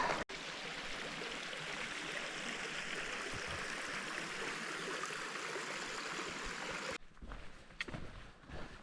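Highland stream flowing steadily near a hillside lochan above Loch Venachar, a loud continuous rush of water that cuts out abruptly near the end, leaving quieter rustling and faint knocks.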